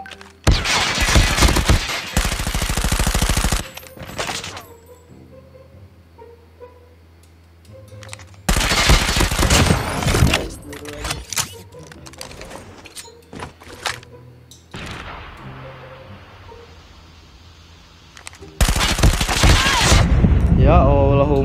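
Bursts of gunfire in the Call of Duty video game, loud rapid volleys in several separate clusters with quieter gaps between, while someone talks over the action.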